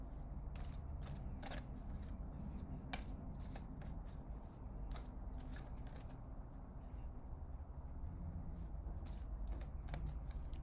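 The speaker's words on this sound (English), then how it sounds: "I usually shuffle this deck until somebody pops out" Rapid, crisp riffling and flicking of oracle cards being shuffled, repeated in quick bursts close up with no one speaking.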